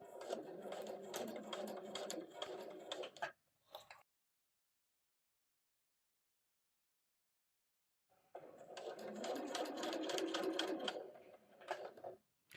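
Sewing machine stitching fabric for a storage caddy: a quiet, rapid whirring run of stitches for about three seconds, a brief burst, a pause of silence, then another steady stitching run of about four seconds.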